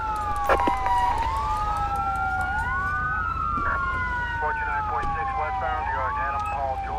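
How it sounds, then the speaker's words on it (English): A fire truck siren in the GTA 5 video game wails loudly and continuously, its pitch sweeping up and down in overlapping tones over a steady low rumble, with brief chirps layered in and no voices. "fire truck's on scene already"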